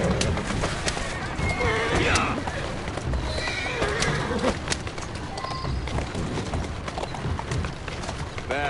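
Horse neighing and hooves clip-clopping in Assassin's Creed Syndicate, with a whinny rising over steady hoofbeats, street bustle and a voice speaking throughout.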